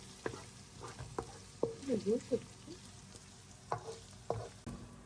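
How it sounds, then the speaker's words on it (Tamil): Food with turmeric sizzles and fries in a pan for Chettinad chicken soup while a utensil stirs and scrapes intermittently, fairly quiet and close, with a few clacking knocks. "போட்டு இதை கொஞ்சம் நல்லா மஞ்சத்தூள் போட்டு இதை கொஞ்சம் வதக்கிக்கணும்."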